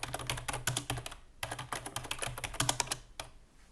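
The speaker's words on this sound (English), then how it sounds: "cracked her knuckles, and began to type" Rapid typing on a computer keyboard, a dense run of sharp close-up key clicks in quick irregular bursts with a brief pause midway, heard alone without speech.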